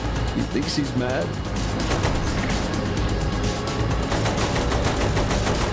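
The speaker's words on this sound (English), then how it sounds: "Use the machine gun then" Machine gun fire in the video game Saints Row The Third, rapid bursts of rattling shots mixed with crashes and vehicle noise, dense and continuous under voices talking.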